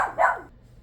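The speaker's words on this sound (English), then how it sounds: "Sorry, y'all, the dog, they're doing construction around and it just drives him nuts." A pet dog indoors lets out a single short bark, moderately loud and close, agitated by nearby construction, then quiet room tone.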